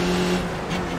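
A race car in iRacing passes close on the left during a Skip Barber race at Belle Isle, heard as a steady, loud engine drone with a slight shift in pitch as it goes by.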